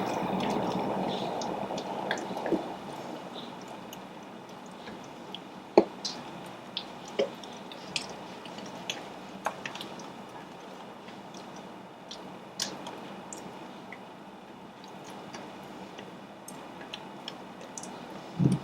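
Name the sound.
mixing melted butter into banana bread batter with rubber spatula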